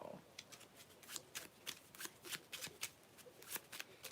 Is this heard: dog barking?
no